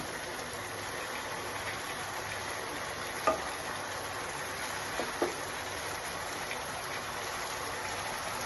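Fish frying in oil with curry leaves gives a steady, soft sizzling hiss close by, broken by a few faint pops and clicks, with no talking.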